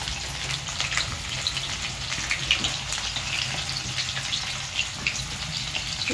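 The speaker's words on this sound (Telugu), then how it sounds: "నీళ్ళు వేసుకుని" Water goes into a hot pan of eggplant pulao and sets off a steady sizzle and bubbling hiss, close and continuous with faint stirring scrapes, and no voices.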